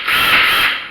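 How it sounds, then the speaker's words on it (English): A cordless drill spins, backing screws out of a small-engine primer bulb, giving a loud, steady whir at close range for about a second. "I'm using a cordless drill at the moment just to speed up the video"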